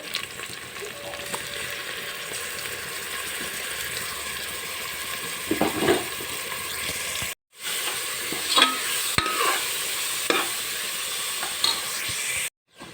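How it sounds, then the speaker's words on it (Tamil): A ground masala paste sizzles and fries steadily in a pan for Tamil-style arisi paruppu rice, with scraping stirs and occasional clatters of the spoon, broken by two brief silent gaps, with no talking. "அரைச்ச பேஸ்ட்டாக பச்சை வாசனை போடுற வரைக்கும் வதக்கணும்"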